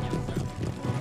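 Cavalry hooves drum in a quick uneven gallop during a charge in the Empire: Total War battle game, a muffled low thudding mixed with battle noise.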